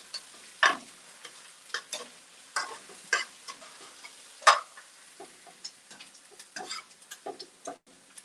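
Quiet, irregular crackles and soft ticks from spinach sautéing in a pan, with sparse sizzling pops scattered over several seconds and no talking.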